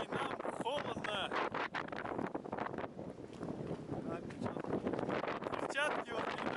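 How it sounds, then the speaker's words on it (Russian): Strong, cold wind roars across the microphone outdoors on a snowy roadside in Norway, a dense continuous rumble with gusty surges, while people talk through it. "Ветер сильнейший, нам холодно."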